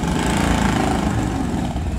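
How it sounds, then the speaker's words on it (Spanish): A motorcycle engine runs steadily at an event, a loud, close, even rumble with no breaks and no voices. "Ya está funcionando su motocicleta."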